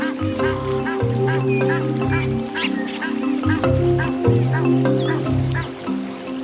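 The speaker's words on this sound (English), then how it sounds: "The little water in the Luvuvhu is enough to attract a range of water birds" Water birds gather along the shallow Luvuvhu river in the Pafuri area of Kruger National Park, honking and quacking in a noisy overlapping chorus of repeated calls close by.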